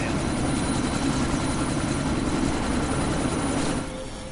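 A loud, steady helicopter rotor drone in the video game Deus Ex: Mankind Divided, with a thick low-end thrum, easing down slightly toward the end.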